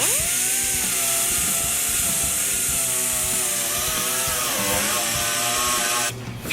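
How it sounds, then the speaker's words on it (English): A power tool spinning a wire brush whines at a steady, high pitch as it scours the trunk seal groove of a car body, loud and continuous with slight pitch sags under load, then stopping abruptly near the end. "We're wire brushing the trunk seal groove to prepare for primer"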